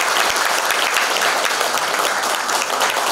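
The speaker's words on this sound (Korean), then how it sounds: "여러분 다시 한번 큰 박수 부탁드리겠습니다." A crowd at a Korean Democratic Party lecture event gives a sustained round of applause, a dense, bright wash of clapping that holds at steady volume throughout.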